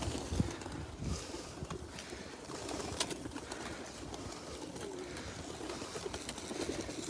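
Pigeons coo softly while they are being fed, low murmuring calls mixed with wing flutters and light scuffling, faint and a little distant over an outdoor wind background.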